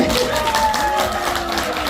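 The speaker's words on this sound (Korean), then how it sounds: "이거는 박수를 엄청 크게 쳐야 돼." Loud, steady applause from an audience at a business talk, filling the whole stretch with dense clapping, with a few voices and faint tonal sounds carrying over it.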